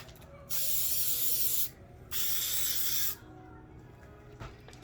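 Two bursts of spray adhesive hiss close up from an aerosol can, each about a second long with a short pause between, then quiet handling noises.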